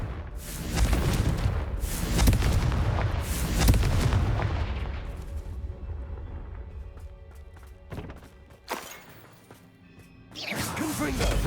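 Confringo fire spell explosions in the PS5 game Hogwarts Legacy, a run of heavy booming blasts and crashes that fade into quieter rumbling, then a few sharp hits near the end.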